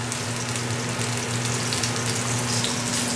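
Organic tuna searing in a hot pan gives a steady, dense sizzle that runs unbroken throughout, with a low constant hum underneath.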